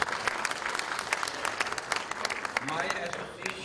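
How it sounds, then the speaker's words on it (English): An audience at a New York community function breaks into applause to welcome the organizers, dense steady clapping filling the room, with some voices mixed in toward the end. "Please join me to welcome them with a great applause."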